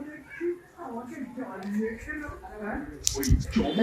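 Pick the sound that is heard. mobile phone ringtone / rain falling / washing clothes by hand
washing clothes by hand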